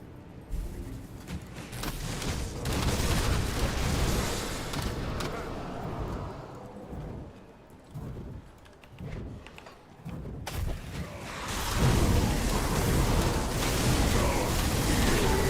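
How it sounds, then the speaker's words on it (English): Explosions in Grim Dawn, an action role-playing game, come as a dense run of booms and thuds that thin out in the middle before erupting loudly again, with faint talk mixed underneath. "That's a lot of explosions."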